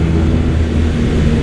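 Loud, continuous low engine drone from a 145-horsepower motorcycle fitted with an Akrapovic exhaust, heard up close and steady without breaks.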